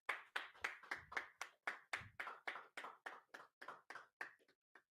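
A congregation claps hands together at a Sabbath service, about seventeen sharp, evenly spaced claps in a steady rhythm, close and clear with no talking.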